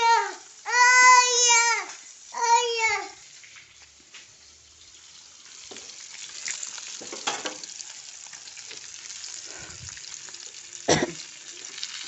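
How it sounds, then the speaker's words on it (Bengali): Fish fried in hot oil in a wok, a steady sizzling hiss rising and continuing through the second half after a few bursts of other sound at the start, close and moderately loud. "এখন মাছ দিয়া বিরান করে লইম।"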